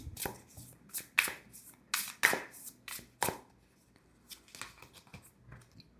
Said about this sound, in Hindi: let me pull out 3 more cards for you for group number 1